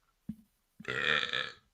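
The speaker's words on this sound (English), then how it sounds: "Excuse me, I got a burp." A single loud, drawn-out human burp rises close to the mic after a short throaty click, lasting about a second before fading out. No talk overlaps it.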